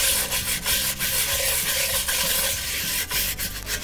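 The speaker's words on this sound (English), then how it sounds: "I've got a good scrub brush, and I'm just gonna scrub around and get all that dirt off" A stiff scrub brush works dirt and bacon grease out of a camp pan with a little water beside a campfire, producing steady, close rasping strokes that repeat rhythmically without talk.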